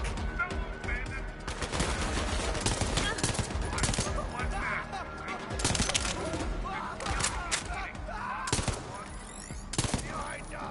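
Gunfire in the Borderlands 3 video game, repeated bursts and rapid shots rattling continuously throughout, loud and busy, with faint voices underneath.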